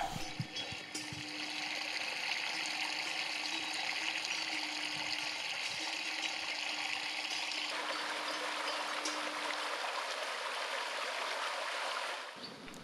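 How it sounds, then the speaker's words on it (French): Water flows steadily like a rushing stream, a continuous broadband wash that fades out near the end. "les ruisseaux coulaient jusque dans la plaine, en bas"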